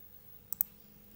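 Two quick, faint mouse clicks close together, crisp and isolated against a quiet room.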